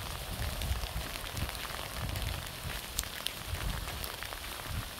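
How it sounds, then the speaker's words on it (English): Steady dense patter of small icy pellets striking surfaces, a continuous crackling hiss with scattered sharper ticks, no voices. "Hail rain."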